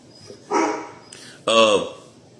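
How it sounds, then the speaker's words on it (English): Dogs bark indoors nearby, two loud, sharp barks about a second apart, the second fuller and longer, with no other sounds between them. "Sorry about the dogs that are barking right now."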